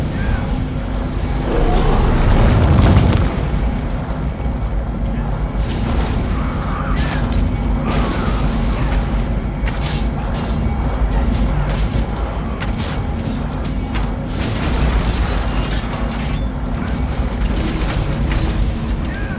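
Bombs explode during a castle battle in The Elder Scrolls Online, a heavy boom early on over a constant dense rumble of combat that continues loudly throughout.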